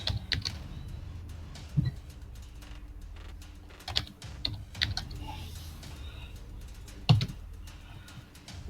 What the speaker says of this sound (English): we'll open this up, go here, type in Whois.